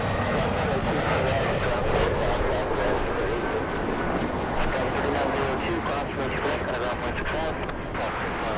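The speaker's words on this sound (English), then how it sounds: "E175 flying to Phoenix." An Embraer E175 airliner roars loud and steady at LAX, a broad jet-engine rush filling the whole stretch with a faint high whine on top.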